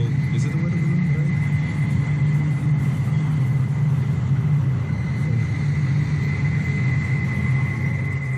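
Distant airplane passing, heard as a faint, steady low rumble with a thin sustained whine above it, unchanging and without voices.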